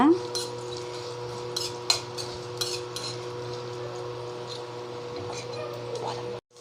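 Roasted ridge gourd peel and coconut stirred in a pan, a spoon scraping and clinking against the metal in short, uneven strokes over a low steady hum, close by.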